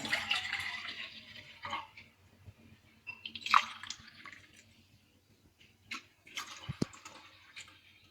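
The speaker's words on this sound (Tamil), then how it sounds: "அதுக்கப்புறம் 2 டம்ளர் தண்ணி ஆட் பண்ணிடுவோம்" Two tumblers of water poured and splashing into a cooking pot in a few uneven bursts, with faint drips and clinks from kitchenware nearby.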